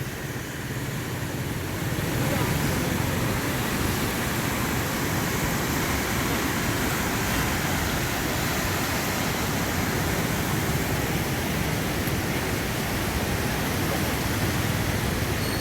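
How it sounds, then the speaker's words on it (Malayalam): The Bharathappuzha river, swollen by overnight flooding, roars in a dense, continuous broadband rush, loud and unbroken throughout with no voices over it. "ഒറ്റ രാത്രി കൊണ്ട് നിറഞ്ഞ പുഴയാണിത്."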